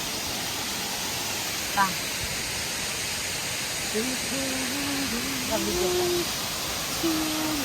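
Bulingan Falls, a 30-foot waterfall in Lamitan City, Basilan, roars as a steady broadband rush, with faint voices and a brief high whistle-like sound over it.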